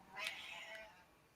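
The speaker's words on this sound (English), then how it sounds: "Great. Now the cats have shown up." A cat gives a couple of soft meows, one clearer call followed by a fainter second one, close by against a quiet background.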